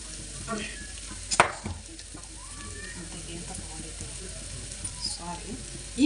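Spices tempering in hot oil in a pan, giving a steady, close sizzle with occasional utensil clatter and scraping over it.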